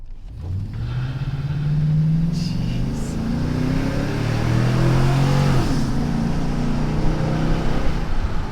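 A 2000 Chevy Silverado fitted with a ported and polished throttle body revs and accelerates, its engine note climbing through gears in a loud, close, rising drone that dips once at a shift before pulling up again.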